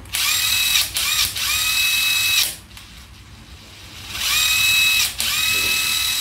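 Panasonic cordless drill spinning at its lowest torque setting, two loud sustained whirring runs with a steady whine, each cut off briefly by short stops, separated by a quieter gap.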